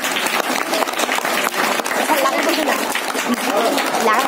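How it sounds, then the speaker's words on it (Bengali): Schoolchildren and staff at a Teachers' Day celebration in a junior basic school clap loudly for an honoured teacher, steady close applause mixed with crowd chatter and movement. "একটা হাততালি।"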